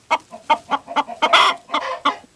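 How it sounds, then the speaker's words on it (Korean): Rooster in Korean farm life, heard at midday, giving a run of loud, close clucking calls in quick rhythmic bursts, with a brief crowing flourish in the middle. "정오를 알리는 또 하나의 시계는 바로 낮닭 소리."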